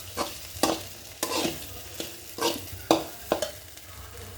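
Sliced okra (bendakaya) frying in a pan, a soft steady sizzle broken by repeated scraping stirs of a spatula, close and clear without any talking.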